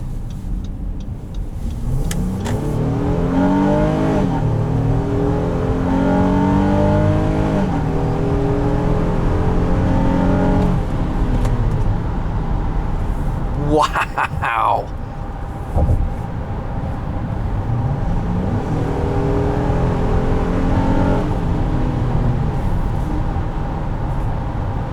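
A 2017 Honda Pilot EX-L V6 pulls hard under acceleration, its engine note rising in repeated sweeping climbs heard from inside the cabin, with a brief whoosh midway.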